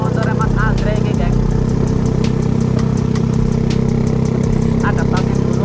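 A Honda Astrea Grand motorcycle engine runs at a steady, even rumble throughout, close and loud, while a person talks over it.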